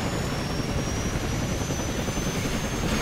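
A helicopter in Call of Duty Modern Warfare 2 makes a loud, continuous rotor and engine roar that fills the scene. The whooshing drone stays steady and close, with no voices over it.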